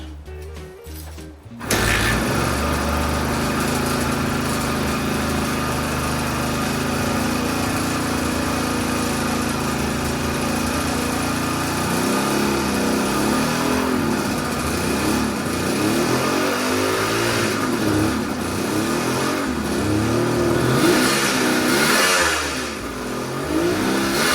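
A Suzuki GT380 three-cylinder two-stroke motorcycle engine, running poorly with its number 2 cylinder not firing, starts after a brief quiet moment and then runs continuously and loudly close by, its pitch rising and wavering with throttle blips.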